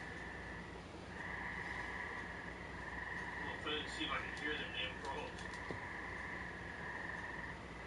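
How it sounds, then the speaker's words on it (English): Frogs croak outdoors in a dense, continuous chorus that sounds distant and fairly faint. Crickets or insects chirp alongside, and a few brief sharper calls stand out midway. "see if I can hear them damn frogs"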